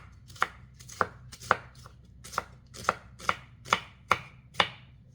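A knife chopping onions on a cutting board while preparing food for catering an event: about ten crisp, evenly spaced strokes, close and clear with no talking.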